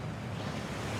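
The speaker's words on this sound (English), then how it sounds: "That waterfall washes away all enchantments." A waterfall in Hogwarts Legacy rushes in a dense, continuous low roar, steady and moderately loud with no break or talk.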